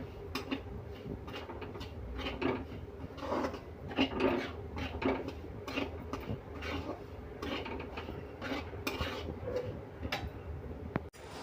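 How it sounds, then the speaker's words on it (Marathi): Semolina being dry-roasted in a pan over a low flame, with a steady close scraping and rasping as a spoon stirs it through, repeated short strokes at an even moderate level. "मंद आचेवर आपल्याला हा रवा भाजून घ्यायचा आहे"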